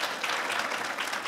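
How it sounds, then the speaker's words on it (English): Audience applause greets someone speaker who has traveled from Ontario, Canada to a talk in Kansas, a steady, dense wash of clapping throughout without any voices. "Give her a big round of applause"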